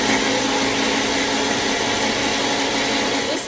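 Flour and milk spin in a blender cup for Jamaican-style porridge, a loud, steady motor whir that runs unbroken from start to finish.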